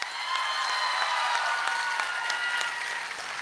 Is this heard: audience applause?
yes